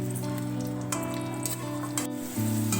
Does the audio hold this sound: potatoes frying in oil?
yes